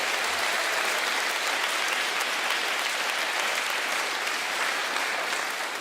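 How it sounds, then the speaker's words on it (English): A crowd at the Fishers Veterans Day ceremony claps in a dense, even wash that holds steady for nearly six seconds, moderately loud, with no speech over it. "Can everyone please give Elle a round of applause for doing such an extraordinary job?"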